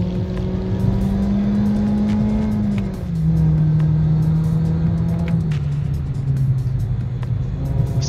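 Exhaust drone of a 2019 Toyota Corolla Hatchback XSE with a 2.0L engine, CVT and deleted muffler, recorded while driving. A loud, steady, buzzy tone holds, briefly dips as the simulated shift changes pitch, then continues slightly lower.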